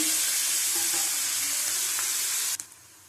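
Lote (Bombay duck) fish frying in hot oil gives a continuous, close, loud sizzle that cuts off abruptly near the end, with no talking.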